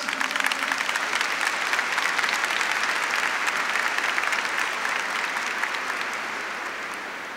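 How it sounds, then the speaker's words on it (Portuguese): Sustained applause from a large lecture audience, loud and steady, slowly tapering off toward the end. "Eu gosto dos aplausos de vocês"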